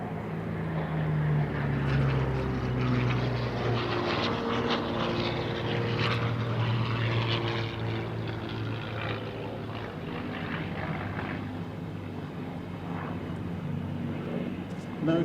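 A Curtiss P-40 propeller fighter roars at a Duxford air show with a steady, loud piston drone and strong low harmonics, sustained throughout with faint crowd murmur and talk beneath.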